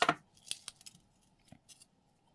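Scissors snipping craft material for a layered tag, a few quick crisp close cuts with small clicks in a quiet room, no voices.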